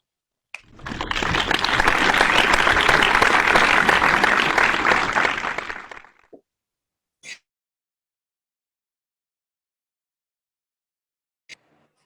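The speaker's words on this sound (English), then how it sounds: "A big round of applause for Dhananjaya Hetirachi." Loud audience applause at a conference as a speaker, a world champion of public speaking, is welcomed to the stage; sustained clapping for about five seconds, then it stops abruptly, leaving near silence with a few faint isolated sounds.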